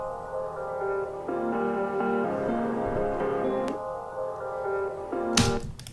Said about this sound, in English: It's just some bandpass filter opening up on either end